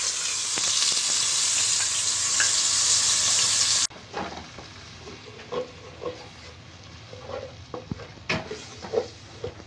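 Leftover chicken-marinade spices sizzle hard in the oil left from frying the chicken, a loud steady hiss that drops off sharply, then gives way to quieter scraping stirs and soft bubbling with occasional utensil knocks.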